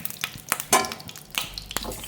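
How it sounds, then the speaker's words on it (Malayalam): Fish frying in a little coconut oil in a frying pan, sizzling softly with quick crackling bursts and faint stirring clicks, quiet and close with no talk. "കുറച്ച് വെളിച്ചെണ്ണ മാത്രം ഒഴിച്ചിട്ട് നമുക്കിതൊന്ന് വറുത്തെടുക്കാം."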